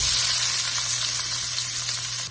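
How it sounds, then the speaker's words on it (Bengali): Onions fry in hot oil, giving a loud, steady sizzle close by that barely changes throughout. "মনে রাখবেন, তেলটা গরম হওয়ার পরেই পেঁয়াজ দিতে হবে।"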